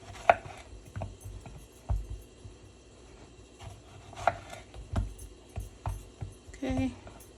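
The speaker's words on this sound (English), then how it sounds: "Okay, so I'm just gonna chop them up and some dices." Tomatoes chopped with a fairly dull knife on a board for a taco salad, a sparse irregular series of soft close thuds and taps with pauses between cuts, quiet overall.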